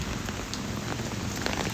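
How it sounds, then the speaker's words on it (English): Heavy rain pours steadily outdoors at night in Brooklyn, a dense, continuous hiss of drops striking pavement and surfaces, loud and close with no voices. "this is crazy how much water is coming down right now"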